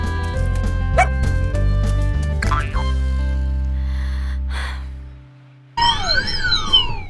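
A cartoon dog barks a few short, springy yaps over bright animated-show music, with a quiet gap before the music resumes.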